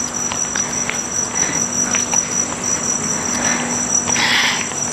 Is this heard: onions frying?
no